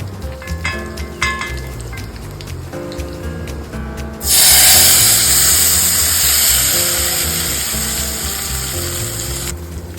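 Chana dal, urad dal and red chillies hit hot oil for a tempering in a home kitchen, bursting into a loud, steady sizzle midway after quieter stirring and clinking, then slowly easing off.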